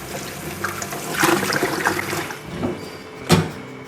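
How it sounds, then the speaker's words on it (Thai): Peeled green onions with trimmed tips are rinsed again under water, a close splashing and trickling with a couple of louder surges, no speech heard. "อันนี้หลังจากเรา ลอกแล้วก็เด็ดปลายออกเลยครับให้เรานำมา ล้างอีกรอบนึงนะครับ"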